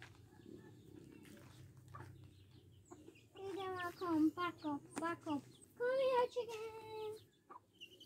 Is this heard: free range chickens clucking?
yes